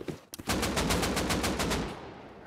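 Rapid automatic AK rifle fire in Rust Console, a loud sustained burst of evenly spaced shots that follows a couple of brief thumps.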